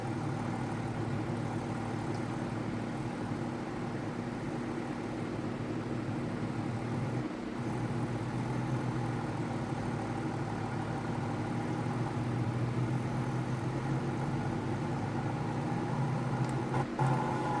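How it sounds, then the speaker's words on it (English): A John Deere 4440 tractor engine runs steadily with a continuous low, rumbling drone that stays loud and even throughout, with no talking. "We're on our John Deere 4440 right now"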